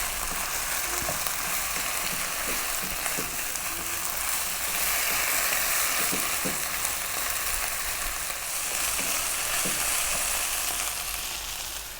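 Diced eggplant frying over medium-high heat for a vegan eggplant tomato curry, a loud, continuous close sizzle with occasional scraping and stirring sounds as the pieces are moved around, no speech.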